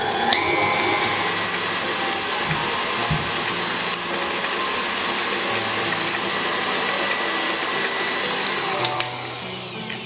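Electric hand mixer beating butter into a white, fluffy cream for shortbread cookies, a steady motor whine running at high speed throughout with small scraping clicks near the end and no talk.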